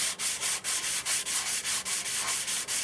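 A dried sunflower stalk, left about two and a half weeks, is sanded by hand while being twisted. Fast, even rasping strokes repeat about four times a second, close and steady, with no talk.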